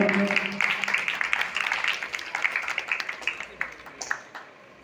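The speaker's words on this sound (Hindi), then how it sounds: "जोरदार तालियां।" Hearty audience applause at a service-themed anniversary event, steady overlapping claps that slowly thin out over several seconds, with voices mixed in.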